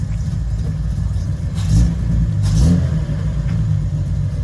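Nissan Fairlady Z S30 engine growling loudly up close, with a steady low rumble and two short revving swells as the car pulls away, no voices over it.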